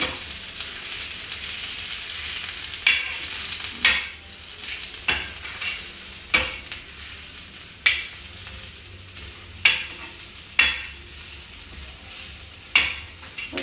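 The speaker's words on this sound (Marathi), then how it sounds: "थोडं परतून घेऊ" Turi chole, a traditional Banjara vegetable, sautés in a pan with a steady sizzle, broken by regular clinks and scrapes of a spoon stirring against the metal roughly every second.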